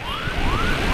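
Ambulance siren wailing in a rising and falling sweep, heard continuously against loud traffic rumble during an emergency escort through city streets in Indonesia.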